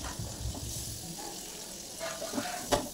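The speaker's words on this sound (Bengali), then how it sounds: "ভালো করে তেলে ভেজে নেব" Pieces of rohu fish fry in hot oil in a pan, a soft continuous sizzle broken by a few faint clinks and scrapes as they are turned, with no talking.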